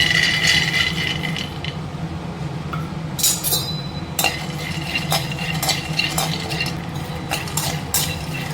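Peanuts dry-roasting in a pan, stirred steadily, giving a continuous gritty scraping with repeated sharp clinks of a utensil against the metal, close and moderately loud.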